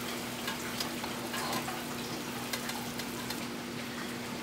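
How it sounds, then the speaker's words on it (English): A sugary sauce boils in a pan on the stove, giving a steady close bubbling and sizzling texture with no talk over it. "So now this is boiling, we want to lower the heat to about medium."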